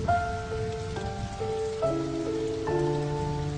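Heavy driving rain pours down as a steady hiss of drops beating on surfaces, running continuously beneath sustained melodic music that carries over it.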